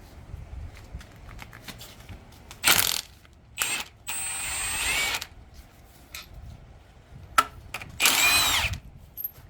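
A power tool with a 10mm socket spins bolts out of the rear engine cover on a 6.0 Power Stroke engine, giving three loud whirring ratchet bursts of a second or so each between quiet pauses, close up.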